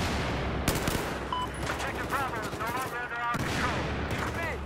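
Battlefield 4 combat with dense rapid gunfire and bursts of automatic weapons, loud and continuous, with chattering rounds layered over a heavy rumbling backdrop and occasional whizzing effects.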